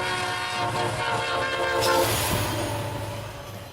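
A steam locomotive, Milwaukee Road 261, rumbles past nearby with a sustained whistle tone that fades midway, leaving the rolling clatter of wheels on the tracks.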